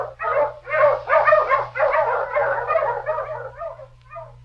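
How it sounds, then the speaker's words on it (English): A dog from a Yukon adventure radio drama barks repeatedly in a loud, close, fast volley of yips and bow-wows that tapers off over a few seconds, heard alone with a low steady hum underneath. "his wonder dog King battled through storm and snow"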